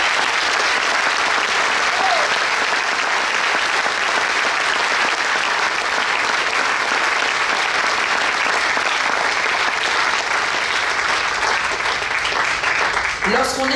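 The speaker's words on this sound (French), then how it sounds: "je vous propose de les applaudir." A large audience at a political rally applauds firefighters, sustained loud clapping filling the whole stretch with a slight swell of crowd noise and a brief voice near the end.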